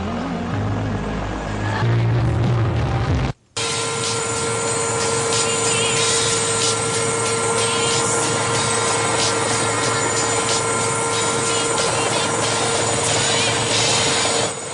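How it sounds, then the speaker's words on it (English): A loud helicopter roars steadily, its rotor thumping continuously with a droning whine, briefly cutting out before resuming at full strength. "A helicopter."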